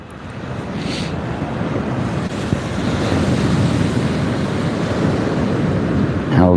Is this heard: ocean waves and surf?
yes